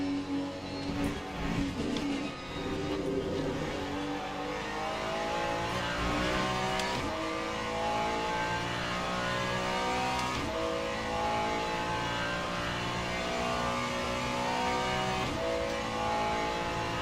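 Race car engines in the Le Mans Ultimate video game, a continuous loud engine drone that rises and falls through repeated gear shifts and revs over a long stretch, with no talk.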